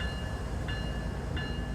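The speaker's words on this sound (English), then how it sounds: "a couple of honks, just to let people know we're moving" A locomotive horn in Train Sim World 3 on Cajon Pass gives two short honks over the steady rumble of the train.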